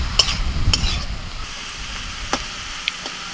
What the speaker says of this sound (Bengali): তুই ততক্ষণ শাকটা একটুখানি নাড়াচাড়া কর